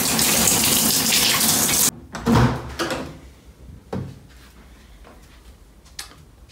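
Water runs steadily in a hotel room shower for about two seconds, loud and broadband, then cuts off abruptly, followed by a few scattered knocks and handling sounds in a quieter room.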